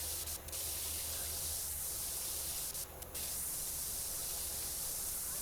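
A pressure washer sprays soap in PowerWash Simulator 2 as a loud, steady, close hiss, broken by two brief pauses where the spray cuts out.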